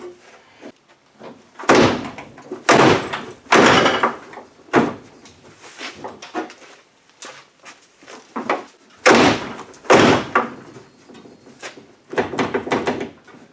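A car trunk lid with newly installed threaded rods slams shut several times, a series of solid, close thumps spaced over several seconds with no talking.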